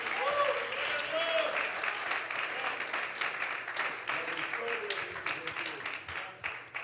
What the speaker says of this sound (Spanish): Alguien le aplaude con más amor hoy